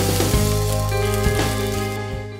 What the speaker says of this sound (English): we're gonna cook our rice with our onions and garlic here